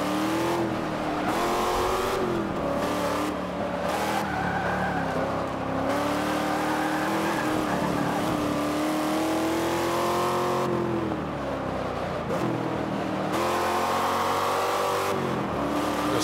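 A Chevrolet Camaro ZL1 races at Laguna Seca in Forza 5, its engine droning loud and continuous, with the pitch rising and falling through repeated accelerations and gear changes.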